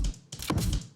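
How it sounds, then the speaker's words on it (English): Steampunk-style heavy reload sound effect from a cinematic sound library, a short sequence of clunky mechanical clicks and thunks within about one second, close and dry. "Then we've got the steampunk heavy reload."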